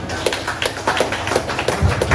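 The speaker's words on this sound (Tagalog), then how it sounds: "Bigyan naman natin ng palakpak." At a year-end party, guests clap in a fairly even rhythm of distinct, moderately loud claps over a constant low hum and background murmur.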